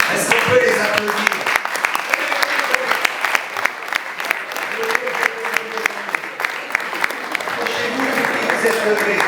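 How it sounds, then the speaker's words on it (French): A church congregation applauds young people aged 16 to 25 standing during a service, dense sustained clapping with crowd noise, a voice speaking and cheering over it throughout. "Est-ce qu'on peut les applaudir?"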